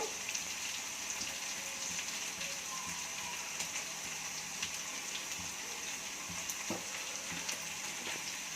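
A spoon stirs an eggplant, tomato and potato curry with turmeric in a hot pan: a steady close sizzle with intermittent scraping and clinking strokes, no voices.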